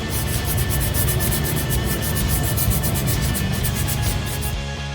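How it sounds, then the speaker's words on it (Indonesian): Sandpaper rubbing a drum brake lining in rapid, even back-and-forth strokes, a close, continuous scratchy abrasion with a regular pulsing rhythm and no voices. "bersihkan permukaan kampas rem dengan amplas supaya terhindar dari noda oli atau stempet pada permukaannya"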